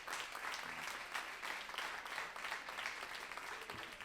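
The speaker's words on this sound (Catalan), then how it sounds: "per favor un aplaudiment per a ells i per a elles" A crowd applauds steadily at a closing gala, a dense patter of clapping that holds for a few seconds.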